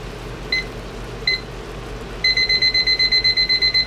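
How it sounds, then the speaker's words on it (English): A kitchen timer gives two single beeps as it is set, then breaks into a fast, steady run of sharp, high electronic beeps, close and clear, with no talk. "Also going to set my timer"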